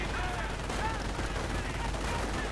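Scout car machine gun fire in a strategy video game, rapid crackling bursts repeating over a steady wash of game noise, with a voice talking faintly underneath.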